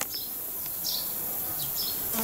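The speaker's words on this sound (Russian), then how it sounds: "И пчелы тут уже вовсю жужжали" Bees buzz among linden trees in a countryside meadow, a steady close insect drone with a few louder passes as individual bees fly near, and no one talking.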